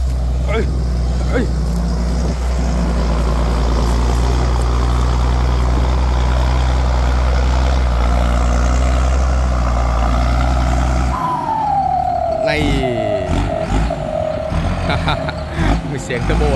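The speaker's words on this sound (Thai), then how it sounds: "ไอ้มีเสียงเทอร์โบครับดังดีมาก" A tractor ploughing deep with a disc plough roars hard with a loud turbo engine drone for about eleven seconds, then its tone shifts and wavers. Someone talks over the noise.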